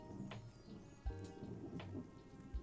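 Steady soft rainfall with occasional low thunder-like rumbles in the Pantheon: Rise of the Fallen game world, faint and continuous throughout without any speech.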